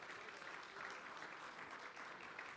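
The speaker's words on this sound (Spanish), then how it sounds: "Fuerte el aplauso para Alejandro Duto." Audience applause for a speaker at a talk, a steady wash of many hands clapping together, fairly faint and distant, with no voices over it.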